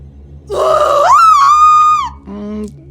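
An aged, croaky scream from the video game What Remains of Edith Finch: a loud, strained wail that rises and holds before breaking into a shorter rasping cry.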